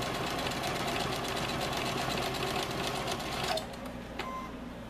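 A sewing machine runs steadily while stitching a quarter-inch seam on an oven mitt, its fast, even motor hum continuing for several seconds before cutting off near the end, close and alone.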